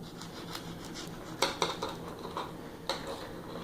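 A wet knife blade slices back and forth through a seaweed-wrapped sushi roll, giving soft scraping cuts with a few sharper knocks against the board, close and fairly quiet.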